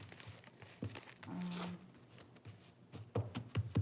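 Playing cards shuffled by hand during a tarot-style three-card reading, a quiet soft riffling and crinkling patter with a brief buzzing ripple, close and alone.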